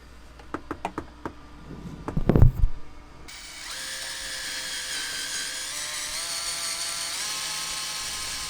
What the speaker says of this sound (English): So we're gonna try to drill another hole.